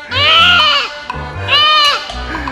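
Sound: goat bleating

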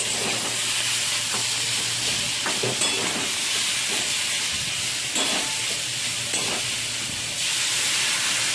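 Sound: water poured into sizzling fried vegetables

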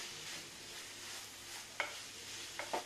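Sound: stirring black grape and coconut burfi mixture in a pan

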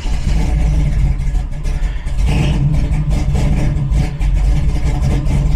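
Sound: car engine starting up after tuning software adjustments

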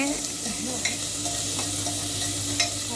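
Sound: stirring onions frying in a pan for vegetable pulao

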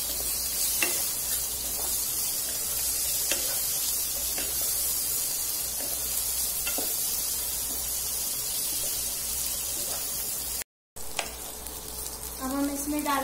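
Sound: potatoes stirred and frying in pan for jeera aloo

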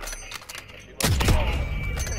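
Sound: gunshot in a shooter video game

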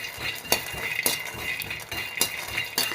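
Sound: frying peanuts in a pan

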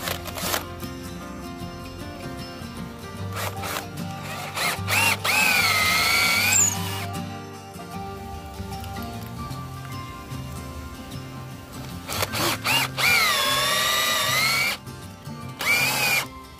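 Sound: DEKTON D21 cordless drill driving screws

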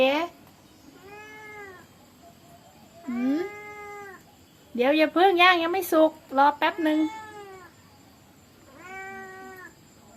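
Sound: cat meowing

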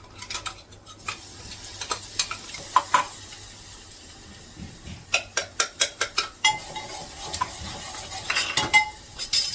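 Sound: ground green chili, garlic and cumin sautéed in oil

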